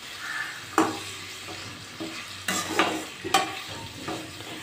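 Garlic sautés in oil in a pan for a gravy, a low steady sizzle broken by three or four louder scraping stirs of a spoon, close and without speech.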